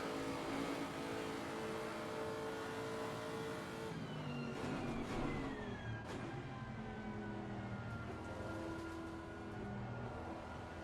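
A GT race car engine drones steadily in Assetto Corsa Competizione, its pitch rising and falling through gear changes around the track, loud and continuous with no talk.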